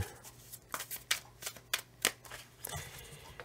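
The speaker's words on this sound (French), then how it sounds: "On va encore mélanger un petit peu." A deck of oracle-style playing cards is shuffled by hand in quick, papery riffles and slides, several short bursts over a few seconds with a faint steady hum behind them and no talking.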